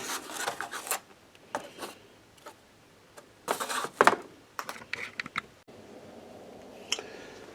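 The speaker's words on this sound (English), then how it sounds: "Pickups are tested using amplifier and screwdriver." Scratchy taps and rubbing bursts come through an amplifier as a screwdriver is touched to the pickups of an upgraded Ibanez 7V Jem seven-string electric guitar, irregular and moderately loud, with a steady hum near the end.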